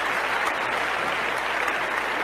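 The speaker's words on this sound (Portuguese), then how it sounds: "Podemos então dar um aplauso para o nosso Deus?" A church congregation claps together in praise to God, a dense steady applause that fills the room at an even level throughout, with no talk over it.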